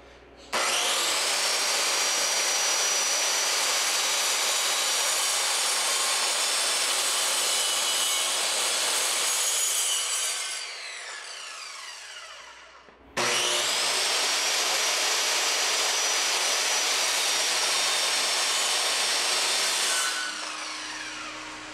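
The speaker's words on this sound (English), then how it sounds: "use a circular saw with a straight edge clamped to the tabletop" A circular saw guided along a clamped straight edge cuts through a wooden RV dinette tabletop slab in two long, loud, steady passes, the second starting right after a brief stop, with the whine trailing off as each cut ends.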